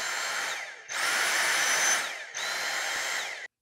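Dyson V6 cordless vacuum fitted with a HEPA filter conversion kit, its motor whining in three bursts, the middle one longer and louder as it is switched to max, close and alone.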